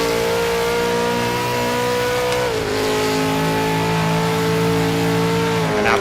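A V8 supercar engine in a racing video game holds a loud, steady droning whine, dips in pitch mid-way as it shifts or lifts off, then climbs again, continuous and close with no voices.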